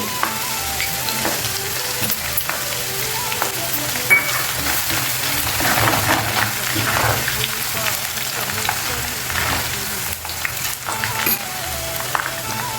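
Ingredients for coriander pickle, including chopped chillies, sizzle and fry in hot oil in a pan, a steady crackling hiss with small pops running throughout, close and fairly loud.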